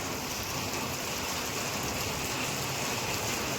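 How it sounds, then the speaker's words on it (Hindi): Steady, heavy rain pours down in a dense, continuous hiss with no pauses, loud and close throughout. "देखिए बहुत काफ़ी तेज बारिश हो रहा है।"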